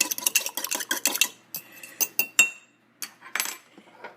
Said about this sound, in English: we're just gonna give it another good whisk before we put it in the microwave for 20 seconds